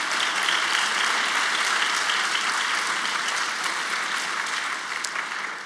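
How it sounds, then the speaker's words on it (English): A large audience claps steadily and loudly, a dense wash of applause that holds for several seconds before easing off slightly at the end. "We can clap."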